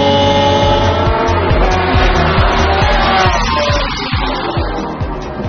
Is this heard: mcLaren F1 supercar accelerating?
yes